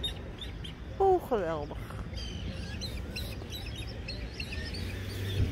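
Several small chicks peep in short, high, bright calls near the start, followed by fainter chirps against a low background hum, while a person speaks briefly.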